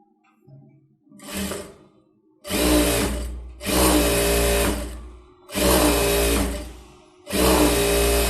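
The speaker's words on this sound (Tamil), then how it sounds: "அது அந்த மாதிரி மடித்து தையல் போட்டுருங்க" A sewing machine stitches a folded hem on a blouse, running in four loud, steady bursts with short pauses between, after a faint, quiet start.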